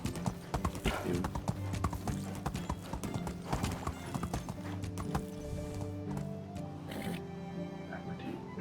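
Horse hooves clip-clop rapidly and close in the medieval survival game Medieval Dynasty, with an occasional whinny, while people talk over the steady galloping rhythm.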